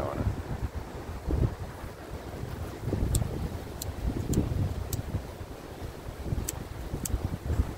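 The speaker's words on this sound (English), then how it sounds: "Of course the wind starts back up once we want to burn" Wind blows steadily outdoors on a hike in a low, rumbling gusty roar that buffets the microphone throughout, with a few faint sharp ticks over it and no talking.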